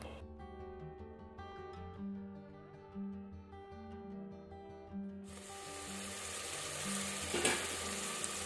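Masala-stuffed brinjals set into hot oil start a soft sizzle that swells into a loud, steady hiss partway through, while music plays underneath.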